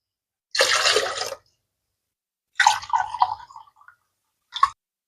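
Water is poured in three short splashing bursts onto split moong lentils in a cooking pot, the last pour very brief.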